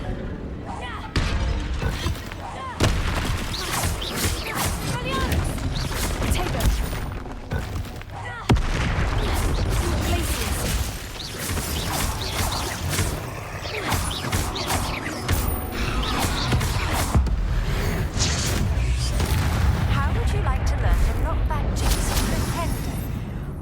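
Repeated fire spell blasts in the wizarding game Hogwarts Legacy, dense bursts of explosive impacts and crackling over a constant game soundscape, with a voice speaking at points.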